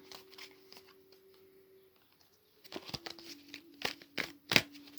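Tarot cards riffle and slap together in several quick bursts, crisp and close, after a quiet stretch with a faint steady hum.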